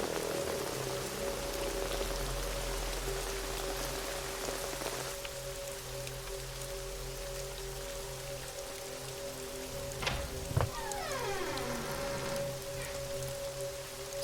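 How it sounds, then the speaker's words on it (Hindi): Heavy rain falls steadily in a continuous hiss of drops on surfaces, accompanied by a low sustained drone, with a brief brighter clatter and sweeping tones partway through. "इतनी बारिश में ये ऐसे कहाँ जा रहा है?"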